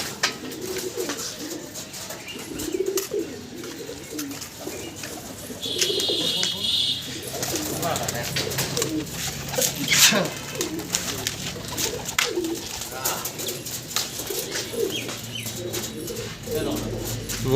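Low rolling coos from high-flying pigeons repeat close by and fairly steadily, mixed with brief chirps and a short rustle, while voices talk intermittently over them.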